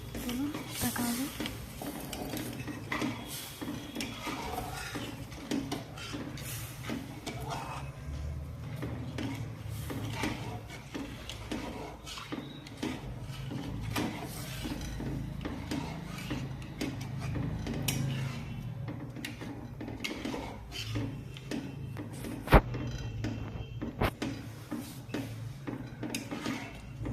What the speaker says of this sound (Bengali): এবার এটাকে বেশ কিছুক্ষণ কন্টিনিউ নাড়তে হবে যাতে দলা পাকিয়ে না যায়